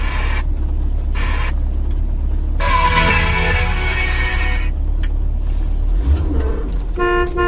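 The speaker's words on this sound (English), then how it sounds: "Horn" Horn of a 1965 Ford Thunderbird Landau, sounded in a short blast amid steady engine and road noise, with a couple of brief tonal toots toward the end, close and loud.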